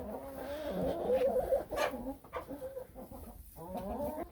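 Chickens cluck and murmur steadily nearby, with a few sharper calls rising above the soft, continuous flock chatter.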